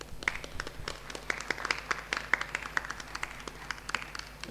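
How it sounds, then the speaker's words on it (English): Scattered audience clapping in a hall at a university closing ceremony, sparse individual claps of uneven rhythm with a quiet room background, fairly faint and loosely spread. "give a round of applause to all of you"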